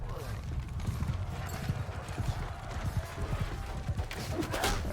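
Cavalry horses moving through a video game battle, a dense patter of hooves mixed with clanking mechanisms and creaks, steady and moderately loud, with a voice talking over it.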